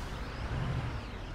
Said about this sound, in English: Can you hear that? The air brakes.